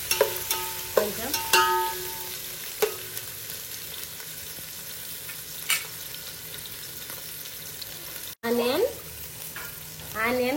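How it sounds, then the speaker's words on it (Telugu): Onion, carrot and beans frying in oil in a pan, a steady sizzle broken by sharp scrapes and clinks of stirring, close and fairly loud, with no talking. "ఈ వెజిటేబుల్ని మొత్తం మంచిగా ఆయిల్లో వేగనిద్దాము"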